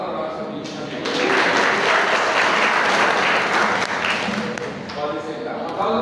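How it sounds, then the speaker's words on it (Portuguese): A classroom audience bursts into applause, a dense wash of clapping that swells after a second and holds for several seconds before tapering, with voices heard around it. "Um aplauso à nossa vítima."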